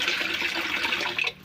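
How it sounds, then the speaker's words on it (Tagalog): Water runs steadily into a clogged kitchen sink, a continuous splashing rush that pours for over a second before cutting off, with no talking. "Pinupuno ko siya ng tubig."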